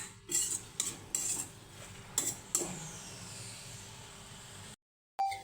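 A metal spoon scrapes and clinks against a pan while ridge gourd curry with cumin is stirred, a series of sharp, close knocks followed by softer scraping and a brief gap of silence.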